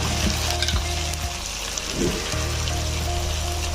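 Onions frying in a pan with ginger garlic paste and salt while cooking mutton curry: a dense, steady close-up sizzle with a few soft stirring scrapes and clinks, no talking.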